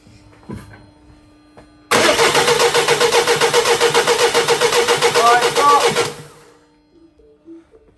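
A Mini Clubman diesel that has sat parked for two years cranks steadily for about four seconds with a fast, even rhythmic churn but does not start. It is loud and close, with faint talk before and after.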